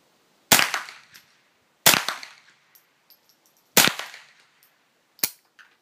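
A JW-14 gun fires four sharp, loud shots at uneven intervals, each a crisp crack with a short decaying ring, with no talk in between.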